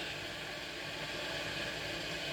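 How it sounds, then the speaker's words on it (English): A kettle boiling at home gives a steady, broad hiss with a low rumbling undertone, continuous and fairly close throughout without any voices. "That is my kettle."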